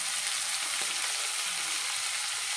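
Fish pieces frying in a pan of hot oil, giving a continuous soft sizzle and crackle at a moderate level, steady and without talk.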